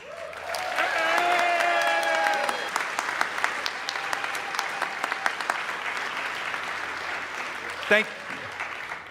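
Loud audience applause and clapping greet Brewster Kahle, founder and digital librarian of the Internet Archive, as he returns to the stage. It swells early, then thins into scattered claps before fading.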